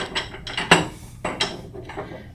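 Metallic clicks and scrapes as a 4mm Allen key tightens a C22 snow retention clamp on a snap-lock metal roof pipe, a few close, sharp ratcheting ticks in uneven bursts with no talking.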